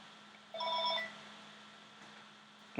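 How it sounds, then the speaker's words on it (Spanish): A telephone gives a single short electronic ring, fairly quiet against a faint steady hum in an indoor room, then quiet follows. "perdón acá para colgar este teléfono"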